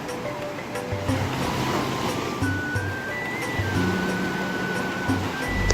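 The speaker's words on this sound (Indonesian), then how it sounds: "Kurmawa dan Kurmawi pergi ke pantai" Ocean surf at a quiet, secluded white-sand beach, a steady wash of waves rolling on without a break, with faint tonal sounds drifting over it and no talking.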